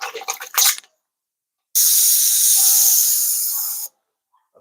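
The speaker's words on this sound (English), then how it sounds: "I'm just gonna rinse that out." A brief, steady hiss of water spraying as something is rinsed out outdoors, running strongly for about two seconds, with short rustling sounds before it and silence after.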